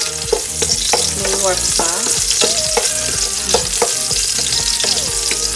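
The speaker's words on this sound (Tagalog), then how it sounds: "Hintay lang natin maging brownish yung garlic before ilagay ang onion." Garlic sizzles steadily in a hot pan for chop suey, with a bright continuous frying crackle and a spatula scraping and stirring up close; a voice speaks briefly over it.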